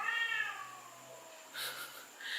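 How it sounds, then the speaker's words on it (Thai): A neighbour's cat gives a drawn-out meow that slides downward, followed by a couple of short, fainter mews, heard quietly indoors with no speech. "แมวข้างบ้าน"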